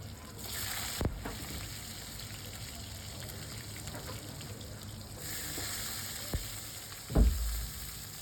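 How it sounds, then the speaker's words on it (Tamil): Garlic cloves and small shallots sautéing in a pan give off a soft, steady sizzle, with a few sharper clinks and a louder clatter near the end as the pan is stirred. "கொஞ்சம் நேரம் இதை லைட்டாக வதக்கிக்கிறேன்."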